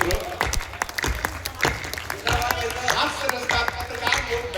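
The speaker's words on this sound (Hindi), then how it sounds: "जरा ताली वाली बजा दीजिए मित्रों।" An audience claps at a Hindi poetry gathering, loud irregular hand claps near and far, with voices talking over the clapping throughout.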